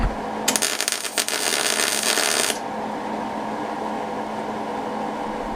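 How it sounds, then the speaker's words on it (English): Tack welding a kart body's side-pods and nose gives one loud, crackling burst of about two seconds, then a quieter steady hum. "we're going to weld it real quick, and I'm going to start out by just tacking it"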